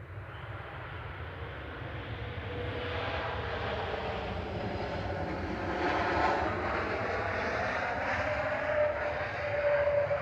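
An airplane landing at Manchester Airport gives a steady, loud roar of jet engines as it passes near, the rumble holding throughout with a tone that shifts slightly as it goes by.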